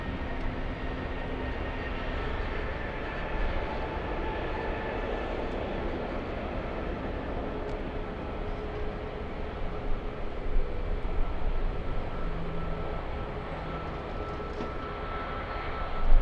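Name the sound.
Flair Airlines plane departing LAX for Vancouver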